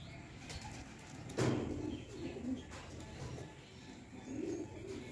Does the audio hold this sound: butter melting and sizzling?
no